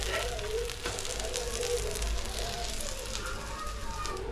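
Oyster patties fry on a hot iron tawa with a steady, close sizzle and crackle that runs through the whole stretch without a break.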